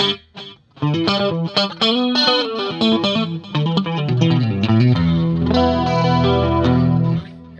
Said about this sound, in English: So 400 milliseconds, and give me that short delay.